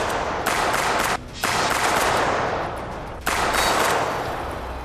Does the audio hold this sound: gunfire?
yes